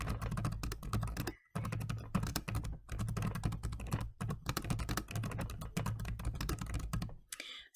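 Steady, fast typing on a computer keyboard while entering answer choices into a quiz-building program, dense key clatter running nearly nonstop with a few brief pauses.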